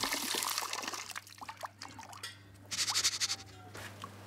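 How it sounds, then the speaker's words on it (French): Running water splashes over pepper seeds in a colander, a close, uneven trickle and patter that swells into a louder gush of spray near the end. "On finit de nettoyer les bonnes graines dans la passoire sous un jet d'eau."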